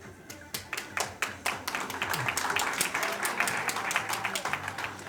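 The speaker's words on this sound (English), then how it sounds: "Let us give a round of applause also to your class advisors and the rest of the teachers" Audience applause at a school junior-senior promenade. A crowd claps steadily and rhythmically throughout, with loud individual claps standing out near the listener.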